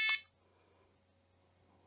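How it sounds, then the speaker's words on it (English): Electronic tone from a budget Discoball carp fishing bite alarm, one short bright multi-harmonic beep at the start followed by a faint steady hum. "we're going to check the tone on the alarm itself"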